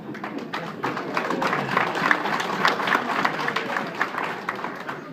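An audience claps at a speech, a steady, dense patter of many hands filling the room continuously without pause.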